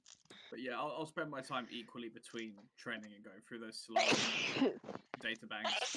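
A single sharp sneeze bursts out suddenly during a tabletop roleplaying game session, standing out loudly against steady conversational talk that runs through the rest.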